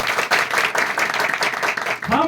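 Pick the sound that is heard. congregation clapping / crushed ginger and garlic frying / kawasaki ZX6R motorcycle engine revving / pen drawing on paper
congregation clapping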